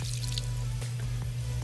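Hot water runs from a tap onto a makeup blender sponge, a steady close gush with faint drips and squishy splashes over a low bathroom hum, brief and quiet, no speech.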